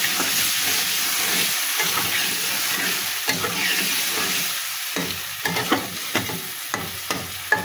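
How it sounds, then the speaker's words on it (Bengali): Vegetables sauté with spices in a pan, a steady sizzling hiss running throughout while scraping stir strokes and sharp clinks of the spoon against the pan grow more frequent toward the end, with no voices. "এটাও মশলার সঙ্গে ভালো করে কষিয়ে নেব"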